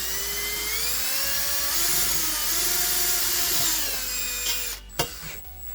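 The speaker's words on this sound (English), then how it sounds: "drill them through, so there's grip for the Kaowool and for the Refractory" A power drill bores holes through the steel shell of a homemade propane blacksmithing forge, a loud, close whining grind that holds steady for several seconds, then breaks off in a couple of sharp knocks as the bit stops.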